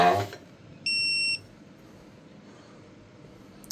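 A digital torque wrench gives a single clear electronic beep, about half a second long, against a quiet room.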